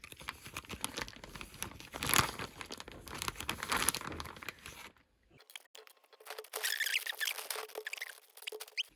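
Plastic zip bag being sealed, crinkling and rustling as it is handled close up, with a brief pause midway before softer crinkles resume.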